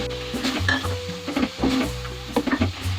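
A spoon stirs a tomato paste and chicken keema mixture in a pot for karahi, with soft scraping and clinks against the metal over a low sizzle, close and steady.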